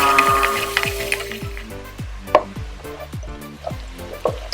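Spices sizzle steadily in hot oil over low heat while making chicken curry, a continuous close frying hiss punctuated by regular soft knocks and scrapes, with no talking.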